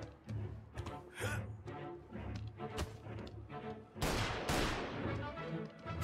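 Gunfire in the Mafia Definitive Edition video game comes as a run of sharp bangs and loud cracks over about six seconds, with a heavier burst near the end.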